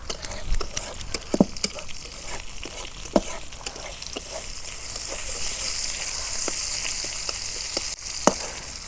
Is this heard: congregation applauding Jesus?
no